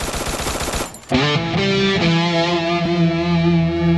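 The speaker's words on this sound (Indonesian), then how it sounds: "Itu di kananmu Upin, di kananmu, cepat tembak dia" Rapid video game gunfire rattles loudly at first, then cuts off at about one second into a steady distorted electronic tone with sustained harmonic pitches.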